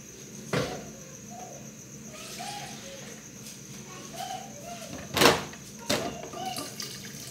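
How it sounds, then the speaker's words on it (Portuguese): Water is poured into a pot of potatoes and onion in a home kitchen, a soft running trickle with a few sharper clinks and knocks of cookware over quiet background noise. "Vou colocar mais um pouquinho de água pra cozinhar a batata."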